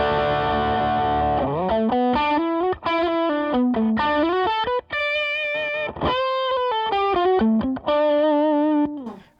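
An electric guitar through a Tube Screamer overdrive pedal plays a sustained chord, then a run of gritty single notes and bends, loud and close, with no voices.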